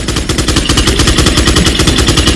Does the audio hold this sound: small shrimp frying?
no